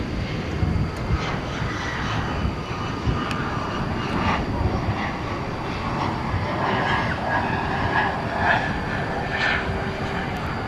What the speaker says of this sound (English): looks like an E-jet to me.